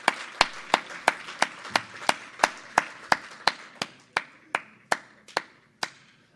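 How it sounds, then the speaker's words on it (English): About eighteen sharp, evenly spaced hand claps ring out at a chamber of commerce business breakfast, a single pair of hands clapping steadily and slowing slightly toward the end, close and crisp with no talking. "let's give a big round and thanks for the showcase tables today"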